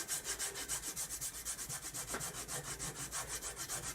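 A sharpening strop is scrubbed lengthwise under medium pressure to clear off compound and debris, producing a fast, even back-and-forth rubbing rasp that is steady and close, with no talking.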